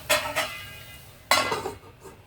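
A metal lid is set onto a cooking pan of okra fry, making two quick clinks followed by a louder clatter as it settles, close and with no talking.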